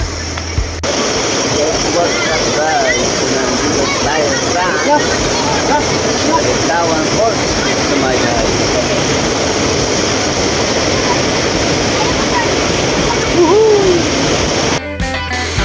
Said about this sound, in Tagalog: So ito naman guys yung pinakamataas na waterfalls niya.